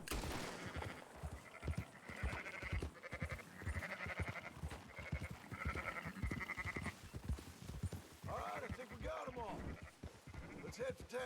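A flock of sheep bleats repeatedly in Red Dead Redemption 2, overlapping wavering cries in quick succession from nearby animals, with talk mixed in among them.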